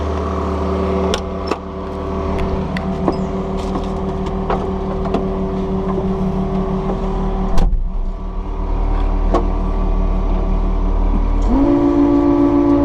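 Takeuchi TB260 excavator running at half throttle while topsoiling, producing a steady mid-level engine hum with hydraulic whine, occasional clanks, and a pitch shift late on as the load changes.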